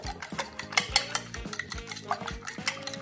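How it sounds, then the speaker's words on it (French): A utensil stirs a cream and nutmeg filling for a smoked salmon and leek tart in a bowl, giving rhythmic close scraping and clinking strokes that repeat steadily throughout, with no talk. "Et on mélange bien."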